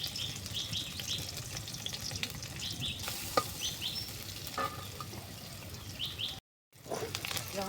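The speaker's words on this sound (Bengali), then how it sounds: "পেঁয়াজ দিলাম তেল দিলাম" Onions fry in oil in a home kitchen pan with a steady sizzle, broken by occasional stirring scrapes and a brief gap near the end.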